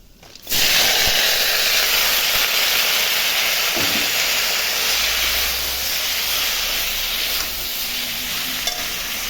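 Vegetables dropped into hot oil tempered with white cumin and chilli for a split black gram dal meal hit with a sudden loud sizzle, then fry in a steady, dense crackling hiss with occasional stirring scrapes.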